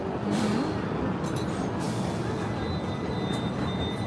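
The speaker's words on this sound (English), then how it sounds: "So as we're passing with the tram" A Hong Kong tram runs along its route, a steady broad rumble of wheels and motor with faint squeals and rattles, heard from on board or close by, continuous throughout.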